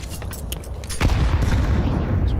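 Counter-Strike rifle spray during an ESL Pro League playoff match between FaZe Clan and Monte, a dense burst of rapid game gunfire with a sharp louder onset midway and a sustained rattling wash after it.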